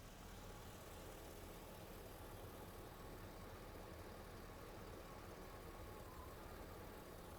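A 2006 Chevy 2500 engine idles rough, giving a steady, moderately loud mechanical drone with no talk heard.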